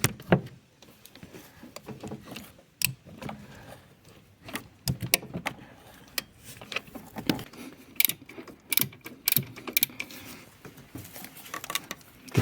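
Ratchet with an E18 internal Torx socket working an alternator bolt loose on an Alfa Romeo Giulietta 1.6 JTDm, heard as scattered clicks, taps and metallic knocks close by, irregular and without speech.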